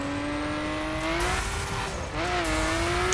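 Nissan Skyline racing on ice in The Crew with nitro boost engaged, engine pitch climbing and shifting steadily, tire noise beneath, game audio only without talk.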